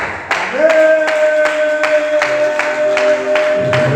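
Church congregation clapping in acclamation to heaven, a steady beat of about eight claps per two seconds under a sustained singing or shouting voice.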